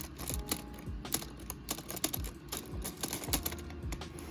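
Keys on a Lego Ideas typewriter model (set 21327) are pressed one after another, giving about a dozen sharp plastic clacks in an uneven rhythm, close and clear with no talking.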